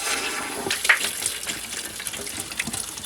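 Steady rushing water drains from a water heater's pressure release valve, a continuous hissing gush.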